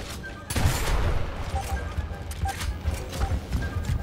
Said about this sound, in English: I heard somebody with their shotgun.